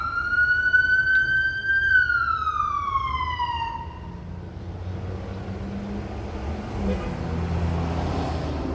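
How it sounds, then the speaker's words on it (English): An ambulance siren wails with a long rising-and-falling tone, loud at first and then fading into steady traffic rumble as it moves away on the street. "Fucking sirens."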